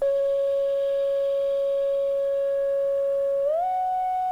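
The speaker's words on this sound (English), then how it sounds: "And then there's these 3 flute kind of sounds, each playing a different melody on top." Second flute-like synth sample holding one long pure tone for several seconds before sliding up to a slightly higher note, steady, clean and close with nothing else heard.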